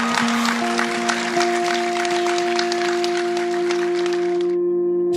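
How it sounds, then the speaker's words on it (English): A gathered group at a basketball event breaks into a round of applause, steady dense clapping over sustained musical tones, lasting several seconds before cutting off abruptly near the end. "So we should all give ourselves a round of applause as well."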